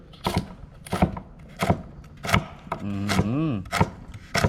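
Sharp, evenly spaced knife chops on a cutting board, about one every three-quarters of a second, close and crisp, with a brief sizzling scrape in between, while cutting braised pork leg.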